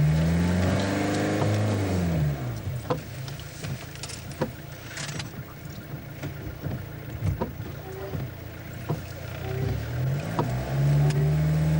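A car turns in the road using forward and reverse gears, with a low engine hum rising and falling, faint tyre and road noise, and occasional soft clicks throughout.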